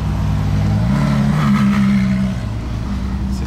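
A white Ferrari pulls away on a street in Monaco, its engine note droning and rising briefly before easing off, heard close with steady road noise.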